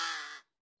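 One rasping caw from a large gaok crow, a juvenile learning to fly, Bandung; fairly soft but clear, trailing off abruptly into silence.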